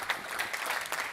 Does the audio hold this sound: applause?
yes